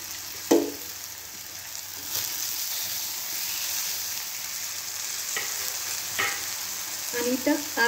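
Spring onion greens and soaked moong dal sizzle gently in a pan while a spoon stirs them, with soft scraping strokes and a few sharper clinks over a steady low frying hiss.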